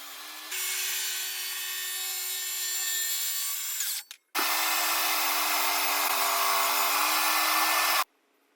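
Power saw ripping boards to size for a portable folding router table, two sustained loud cuts with a steady high whine and a brief pause between them, no talking.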